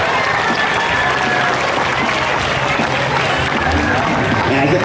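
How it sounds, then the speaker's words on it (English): Audience applause at a tiger show, a dense, steady wash of clapping from a large crowd that holds loud and even for the whole stretch with a faint crowd murmur underneath. "One last big round of applause."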